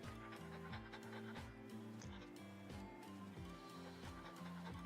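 A dog frightened by heavy rain and thunder pants in quick, regular huffs close by, a soft rhythmic breathing that repeats steadily throughout with no talk over it.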